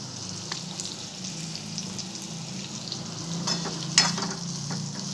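Bitter gourd frying in a little oil in a pan: an even, moderate sizzle throughout, with a few soft stirring scrapes and one sharper clatter near the end.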